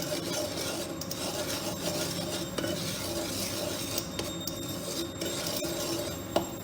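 A utensil scrapes and stirs semolina in a pan with light clinks, a continuous rubbing texture throughout and no talking.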